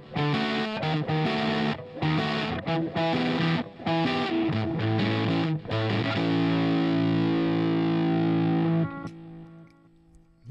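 Electric guitar played through a Line 6 HX Stomp running a Fullerton amp model with an improved cab, giving a distorted, chorus-tinged tone: choppy rhythmic strums that give way to a sustained ringing chord, loud and alone, ending in a short pause.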